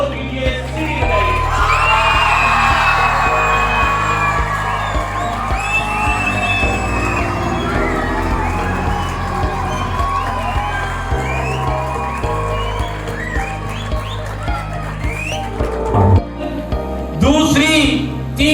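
An audience at a Punjab speech competition cheers, whoops and shouts in a dense, sustained roar that stays loud throughout, with a brief flare of yells near the end; voices mingle with the noise.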